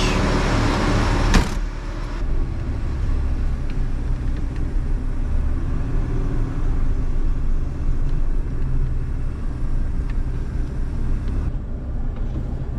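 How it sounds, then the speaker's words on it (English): Jaguar car engine started with the choke on on a frosty day: a sharp burst as it catches, then a loud, steady rumbling idle that carries on close by. "All right, last time starting the Jag."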